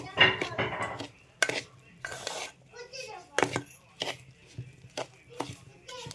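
Ground urad dal is worked together with ghee in a metal vessel for laddus, giving close, intermittent clinks and scraping knocks with pauses between, while a voice is heard faintly.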